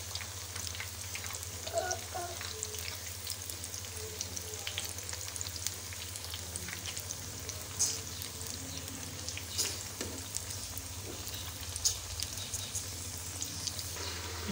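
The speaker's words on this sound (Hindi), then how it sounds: "मीडियम आंच पर हम इन्हें फ्राई कर लेंगे।" Pinwheel potato samosas fry in a pan over a medium flame, giving off a soft, continuous sizzle with scattered small pops and crackles throughout, fairly quiet and uninterrupted.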